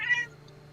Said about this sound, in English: Sphinx, your companion is meowing at you